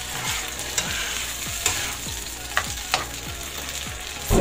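Egg stew is mixed in a pan over low heat. A spoon scrapes and stirs in repeated strokes over a soft sizzle, with a louder clatter at the end.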